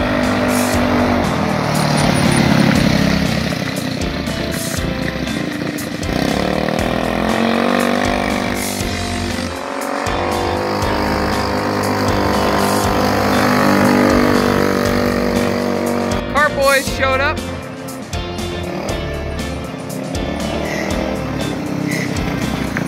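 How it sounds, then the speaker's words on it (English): The Roadkill go-kart engine drives continuously, a loud buzzing roar whose pitch rises and falls as it revs and eases off, with a brief sharper burst late on and no talking. "you can see Matt test driving the Roadkill Kart"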